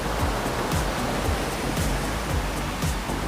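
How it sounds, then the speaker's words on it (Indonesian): A river runs just below a spot beside the Kromo fishpond area in Kuwasen village, Jepara, giving a steady, loud broadband rush of flowing water with no voices over it. "Nah, itu di bawah itu udah sungai."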